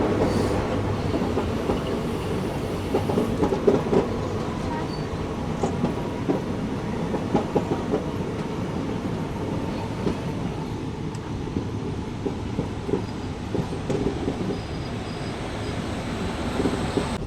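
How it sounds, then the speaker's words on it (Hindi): Indian passenger express from Hyderabad to Chennai hauled by a WAP-7 electric locomotive, heard from a coach near the front: steady loud rumble with continuous rhythmic clickety-clack of wheels on rail joints throughout. "WAP-7 लोकोमोटिव जो कि आगे लगा हुआ है आज अपनी ट्रेन में"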